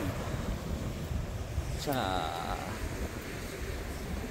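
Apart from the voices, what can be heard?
ocean waves breaking on coastal rocks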